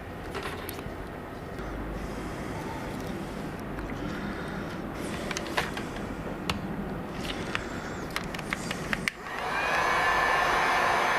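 A heat gun or hair dryer blows steadily while warming a car odometer faceplate, a constant close whooshing roar that grows noticeably louder near the end.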